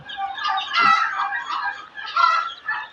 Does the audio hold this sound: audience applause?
no